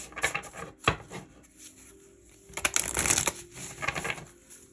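Tarot cards being shuffled by hand, a series of crisp papery riffles and soft slaps in bursts, close and fairly quiet, with no voices.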